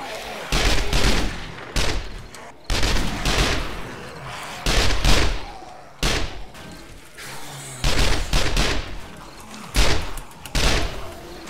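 Bursts of gunfire from the zombie survival video game 7 Days to Die, several loud volleys of rapid shots separated by brief pauses, with no talk over them.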